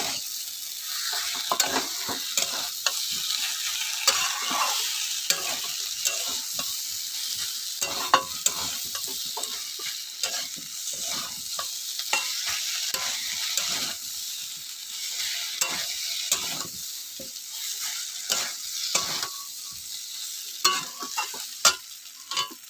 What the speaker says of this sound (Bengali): মশলার সাথে সয়াবিন আলুটা কষিয়ে নেব।